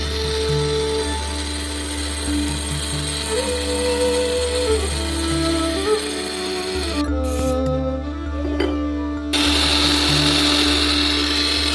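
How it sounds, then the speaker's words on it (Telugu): An electric mixer grinder powders roasted mustard seeds and fenugreek for mango pickle, a loud, steady whirring motor whose pitch shifts as it runs, with a brief stop and restart partway through. "ఆవాలు మెంతులు అయితే గ్రైండర్ బట్టి పొడి వేసుకోవాలి"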